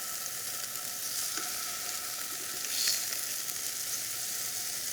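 Scallops pan searing in a saute pan, a steady broadband sizzle that holds throughout at moderate loudness with a faint swell near the middle, no talk.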